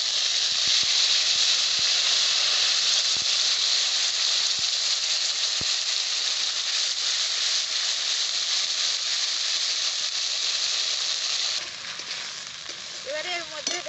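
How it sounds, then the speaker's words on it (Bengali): A ground paste of tomato, ginger and green chilli dropped into hot oil fries with a loud, steady, close sizzle that eases slightly near the end, with faint stirring clicks underneath. "ওই একই তেলের মধ্যে আমি বেটে রাখা মশলা দিয়ে দেব।"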